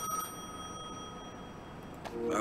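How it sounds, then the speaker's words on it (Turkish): A phone rings in the Gas Station Simulator video game, a steady bell-like electronic tone repeating over a low background hum, with no talking. "Şimdi benim telefon çalıyor galiba."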